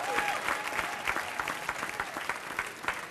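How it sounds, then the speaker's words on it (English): An audience gives another round of applause for the speaker Roland Martin, a close, lively clatter of many hands with distinct individual claps standing out across the full stretch, and no talk over it. "And give our speaker another big round of applause."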